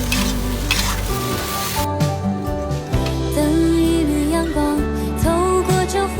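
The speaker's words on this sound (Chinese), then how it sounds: "煮熟的腊肠煸炒一下，蒜苗梗放进去，给它炒软" Sausage and garlic sprout stalks sizzle loudly in a wok while being stir-fried, with continuous frying crackle and occasional stirring scrapes up close.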